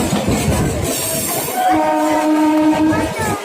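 Moving train, its wheels and carriages rumbling steadily and loud, with sustained tonal squeal or horn-like lines rising in the second half.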